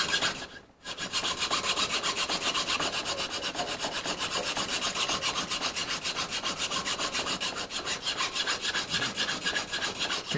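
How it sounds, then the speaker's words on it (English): A fine file rasps across a wooden key of a 130-year-old piano, making fast, even back-and-forth strokes that repeat in a steady rhythm, loud and close with no talking. "I'll switch back over to the fine file."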